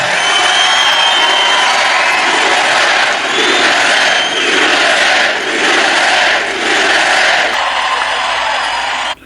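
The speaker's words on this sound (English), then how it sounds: "So right off the bat, the crowd is on fire." Large crowd at an evening political rally in Philadelphia cheering and roaring excitedly, a loud continuous wall of shouts and whoops with rhythmic swells, cutting off abruptly at the end.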